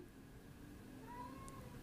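A cat meows faintly indoors, giving a drawn-out tonal cry against a quiet background.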